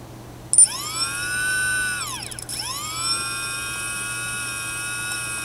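A QAV250 quadcopter motor whines up to a steady high pitch, holds briefly, then spins down and restarts, the tonal harmonics rising and falling over a low constant hum, near and clear with no talk.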